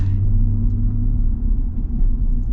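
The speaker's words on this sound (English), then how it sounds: "you do get a little bit more noise from the all-terrain tires" Steady low rumble of all-terrain tires on the road inside a moving 2024 Ram 1500 V6 pickup truck, a constant droning hum with no talking.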